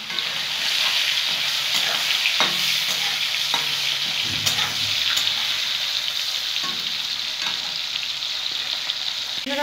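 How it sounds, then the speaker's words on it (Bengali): Shrimp coated in turmeric frying in a pan, a steady close sizzle running throughout with occasional stirring scrapes and clicks. "চিংড়ি মাছগুলো ভাজা হয়ে গেছে"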